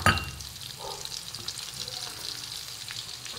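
Onion and garlic sautéing in a pan for breakfast bitter gourd with egg, a steady close sizzle and crackle running evenly throughout.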